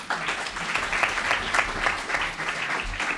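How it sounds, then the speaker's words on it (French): A roomful of people at a Geneva security conference clap steadily together, a thick, even wash of applause sustained throughout without any voices standing out. "Quelques applaudissements pour For House Genève qui a organisé cette rencontre."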